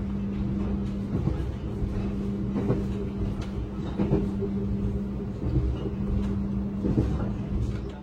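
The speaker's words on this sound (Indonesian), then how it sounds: "Kereta api Argo Wilis telah tiba di stasiun Banjar." Argo Wilis express train pulling into Banjar station, a steady low rumble and hum of rolling stock with periodic clunks and rattles throughout, heard from on board.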